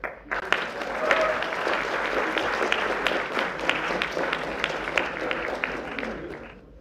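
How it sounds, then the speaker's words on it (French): Sustained audience applause at a live mentalism stage show, a dense wash of many hands clapping for a volunteer called up on stage, steady and fairly loud throughout, with a few sharper individual claps standing out. "Oui, on peut l'applaudir maintenant."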